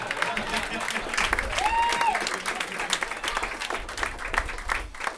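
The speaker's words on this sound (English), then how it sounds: "That's a good applause break, come on." Applause at a Guide Dogs for the Blind retirement dinner in Kitchener, a steady spread of clapping from the banquet crowd over a few seconds, with voices and a brief whistle mixed in.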